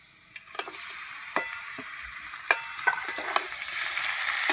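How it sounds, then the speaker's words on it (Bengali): Potatoes and onions fry in fish oil with a continuous bright sizzle, scattered crackles and pops, and occasional stirring scrapes, steady and close. "আলু পেঁয়াজ খুব ভালো করে ভেজে নিয়েছি এখানে মাছের তেল আছে এটা দিয়ে দেবো"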